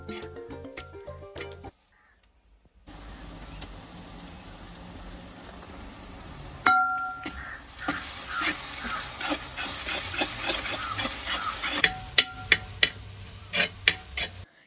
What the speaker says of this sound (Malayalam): സവാള സോഫ്റ്റായി വന്നതിന് ശേഷം ഇഞ്ചി, പച്ചമുളക്, വെളുത്തുള്ളി പേസ്റ്റ് ചേർത്തും പച്ചമണം മാറുന്നത് വരെ നന്നായി വഴറ്റണം